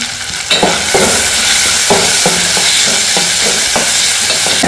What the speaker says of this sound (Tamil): ஒரு பச்சை மிளகாய், கொஞ்சம் கருவேப்பிலை, வெங்காயம், தக்காளி எல்லாத்தையும் போட்டு நல்லா வெங்க வைக்கணும்